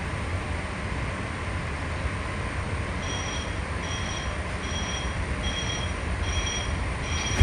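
A PATCO train, a rebuilt Vickers Canada car set, runs through Franklin Square Station with a steady low rumble, while a repeating pair of electronic warning tones beeps in a regular pattern over the noise.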